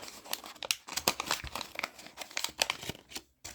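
Paper crinkles and tears as a small paper envelope holding Titanic model kit parts is opened, with close, irregular bursts of rustling and a brief pause near the end.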